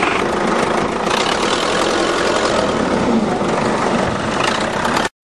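A farm tractor engine runs loud and close at a steady, rough drone while it pulls a seized van free, with no let-up until it cuts off abruptly.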